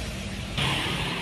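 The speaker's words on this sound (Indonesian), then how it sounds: "di daerah aku banyak ini ya lalu lalang dari truk tambang, suaranya seperti ini" Heavy mining trucks rumble past with a broad, steady engine roar that swells louder partway through, close by and noisy.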